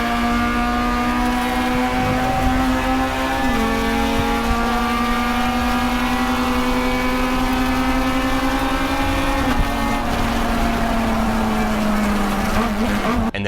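Honda Civic EG race car on track, its engine wailing loud and close from inside the car, revs climbing steadily through gears with brief drops at shifts, no talk.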